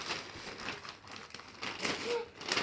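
A plastic delivery bag crinkles and rustles up close as it is opened by hand, in irregular bursts of crackling.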